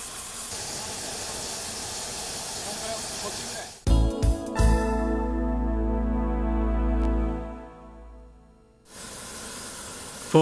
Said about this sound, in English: Once you have ignited the burner, you can move it to the point where the 2 rails are to be joined and adjust the flame.